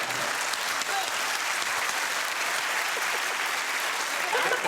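A television studio audience cheers and applauds, a steady, dense wash of clapping that holds at an even level throughout.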